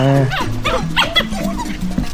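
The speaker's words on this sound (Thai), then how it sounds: "มีลูกหมา มีลูกหมามา" Several puppies on a rainy hillside yip and bark close by in quick overlapping bursts, with high whiny cries mixed in.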